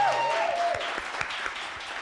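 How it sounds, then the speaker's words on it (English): Applause from an audience after student puppetry and object performances rises briefly under a lingering tone and a voice, then continues as sparse, scattered claps at moderate volume. "One more round of applause for everyone."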